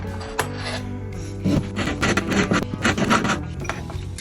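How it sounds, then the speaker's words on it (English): Metal reamer scraping and rasping as it widens the pin holes in a replacement wooden bridge for a 1965 Gibson J-50 acoustic guitar, close, in short bursts of rubbing strokes with brief pauses. "So I'm using a reamer so that I can constantly check the fit"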